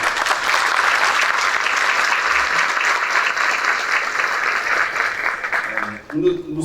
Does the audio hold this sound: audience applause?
yes